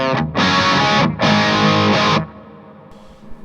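An electric guitar plays through an M-Vave Tank G modeler on its Engl Fireball preset with a Marshall Vintage 30 cabinet and a touch of reverb: two loud distorted chords, each rung out near a second, then cut off.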